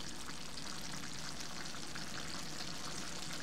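Dried Bombay duck fish with jackfruit seeds sizzles steadily in a pan, a constant close crackle of frying with no clear stirring strokes.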